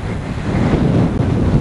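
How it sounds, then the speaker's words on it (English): Steady wind roaring and buffeting across the microphone in Aultbea, a constant low rumble with no pauses and no voices. "As you can hear, it's still windy."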